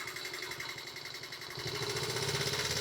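A 1972 Honda Z50 mini bike engine runs nearby at a quiet, rapid putter, then its revs rise partway through and the buzz grows louder and busier.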